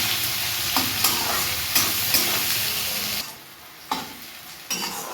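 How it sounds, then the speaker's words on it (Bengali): Onions fry in a pan for a fried rice and chicken dish, a steady loud sizzle broken by several sharp scrapes of a stirring spoon, the hiss dropping for a moment near the end before the stirring resumes. "পেঁয়াজটা ভেজে নিই"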